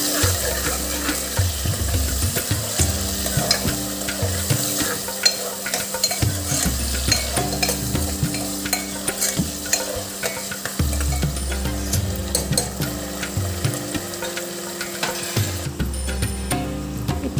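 Onion, green chili and tomato fry together in oil for chicken biryani, a steady sizzle with repeated scraping stirs and utensil knocks throughout, over a low background hum.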